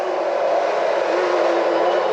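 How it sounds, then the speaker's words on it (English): A 1973 three-cylinder two-stroke motorcycle with Electron carbs and underseat exhaust runs steadily at a custom motorcycle show, giving a loud, continuous, even engine drone with no breaks. "How often do you see underseat exhaust on a 3-cylinder 2-stroke? It sounds good too."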